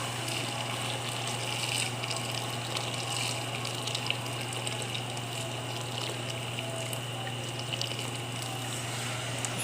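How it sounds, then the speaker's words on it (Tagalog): Water pours steadily from a tap or jug into a cooking pot of chicken for kabsa being boiled, a continuous close rushing gush with an even, unbroken level throughout. "Lagyan na po natin ng tubig para pakuluan na po siya"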